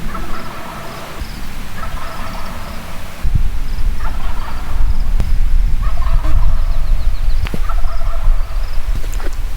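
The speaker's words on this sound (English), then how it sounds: "Our original one's gobbling again." Wild turkeys gobbling in Oregon mountain woodland during a hunt, several rapid rolling gobbles repeating from a moderate distance over outdoor background noise.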